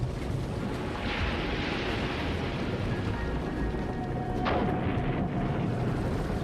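Violent eruptions of methane released by magma heat: a sustained deep roaring rumble, like a massive blast or eruption, with a sharp crack near the end and no voices.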